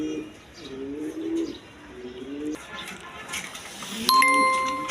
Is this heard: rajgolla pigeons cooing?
yes